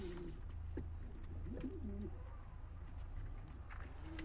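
Pigeons coo softly in a loft, with a few low, rolling coos over a steady, faint background hum and no speech.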